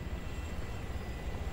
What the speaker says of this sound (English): There's still two helicopters over here.